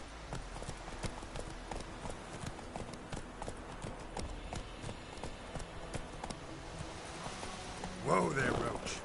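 Horse hooves clip-clopping at a steady gallop in the video game Witcher 3, a continuous rhythmic patter under game ambience and dialogue, with a brief louder burst near the end.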